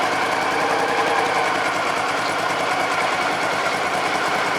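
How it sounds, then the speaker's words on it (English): A Honda Pacific Coast PC-800 motorcycle engine idles steadily up close, a continuous rumbling drone with a fast, even pulse throughout. "Really has to warm up before the throttle response is good."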